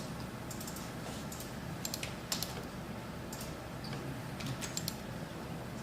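Computer keyboard being typed on, quiet scattered key clicks over a low steady room hum, with a few sharper isolated taps standing out.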